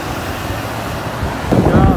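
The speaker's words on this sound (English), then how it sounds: "It's very windy." Strong wind gusts on a peninsula roar across the microphone in a loud, constant rumble outdoors, with a voice speaking near the end.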